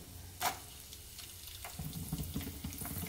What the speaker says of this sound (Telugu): కొంచెం వెల్లుల్లిపాయలు అయితే వేసుకుంటున్నాను నేను.